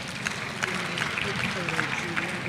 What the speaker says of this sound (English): Please join me in giving Judy another resounding standing applause